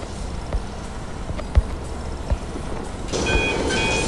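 A train in the Rec Room video game rolls along with rhythmic clacking thumps over a steady rumble, growing louder and brighter with metallic squeals in the final second.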